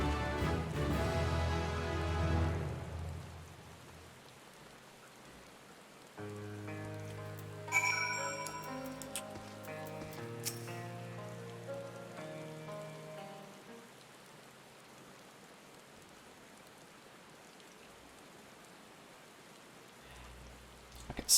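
Rain falls in Final Fantasy XIV as a soft, steady hiss, strongest at the start. Gentle melodic tones and chimes then play over the faint patter.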